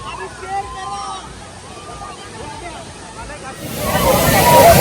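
Voices talk over a low background near a waterfall with a strong, heavy flow, then a loud broadband rush of falling water swells up and dominates the last second or so.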